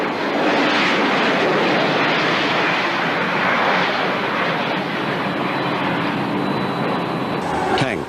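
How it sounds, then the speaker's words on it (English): Military transport aircraft flying airborne units and supplies toward East Germany, a steady loud broadband engine roar that drones on without a break, with a faint whine near the end. "Special airborne units and military supplies are flown round the clock to East Germany"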